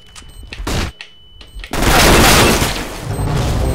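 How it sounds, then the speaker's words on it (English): A flashbang grenade bursts with a loud, sustained, harsh blast in a Counter-Strike: Global Offensive match, preceded by short gunfire-like thuds and followed by a ringing wash. "Flashbang!"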